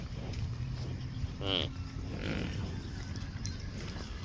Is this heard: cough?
no